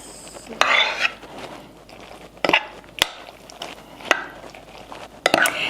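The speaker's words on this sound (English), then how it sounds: "Let's give it a quick stir." Pasta and vegan Alfredo sauce are stirred in a bowl, making wet, squishy mixing sounds broken by sharp clinks of a utensil against the bowl's sides.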